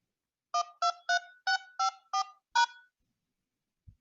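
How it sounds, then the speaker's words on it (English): Seven quick telephone dial pad tones enter a six-digit phone banking PIN followed by pound. The beeps are crisp and evenly spaced, each a short dual-pitched tone on an otherwise silent line, ending with a small click. "Please enter your 6-digit phone banking PIN using the dial pad followed by pound."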